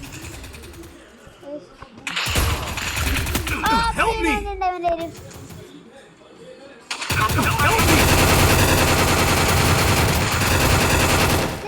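Video game gunfire, including shotgun shots, comes as loud rapid bursts of automatic fire, with a long sustained barrage toward the end and a quieter gap between.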